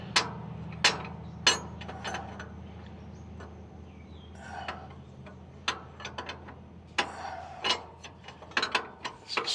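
A short wrench ratchets in a shop in a series of sharp, irregular clicking bursts, close and fairly loud, with pauses between quick runs of clicks.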